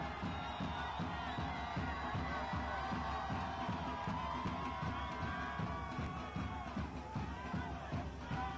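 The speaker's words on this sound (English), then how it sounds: "Plenty of noise from the crowd." A soccer crowd in a stadium keeps up steady, dense cheering and chanting throughout a Rhode Island FC versus Charleston Battery match, with rhythmic pulses and occasional whistles rising over the continuous roar.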